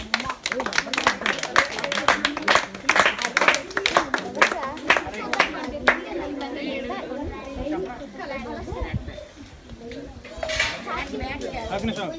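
A group of children at a summer tuition class clap their hands in a quick burst of sharp claps, mixed with loud chatter and voices; the clapping fades after about six seconds as talk continues.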